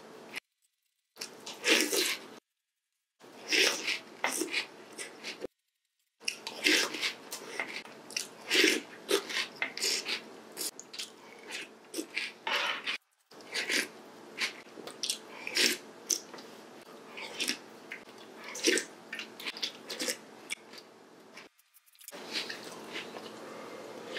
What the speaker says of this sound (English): These things require a lot of chewing too.